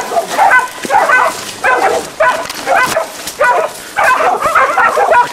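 A dog barks out in the mountains in Hawaii, loud and close, in repeated bursts of rapid excited yipping barks with short pauses between them.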